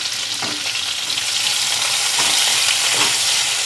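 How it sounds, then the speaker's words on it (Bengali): Chopped medium onions sizzling and frying in hot oil in a pan for a Bengali-style mutton curry, a steady loud hiss with occasional stirring scrapes, close and continuous, with no voices. "একটু হালকা ভেজে নেব পেঁয়াজটাকে"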